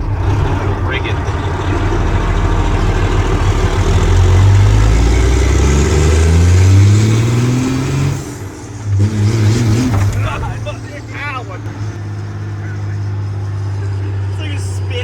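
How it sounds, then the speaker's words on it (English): A hood-stacked Peterbilt pull truck revs hard with climbing, surging engine pitch as its tires spin, the loud roar dipping briefly before settling into a steady drone, with people talking faintly nearby. "It's like it's spinning the tires."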